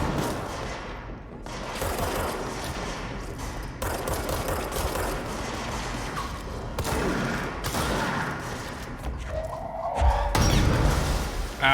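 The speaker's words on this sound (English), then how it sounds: "I hear shooting." Gunfire in the supernatural action game Control, sustained volleys of shots with occasional crashes and whooshes at moderate volume, steady throughout.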